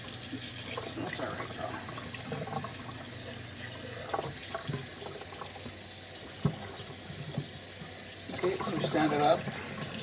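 Tap water runs steadily into a sink while an object is rinsed, with a continuous close splashing flow and a few clunks of handling, and a person talks briefly over it.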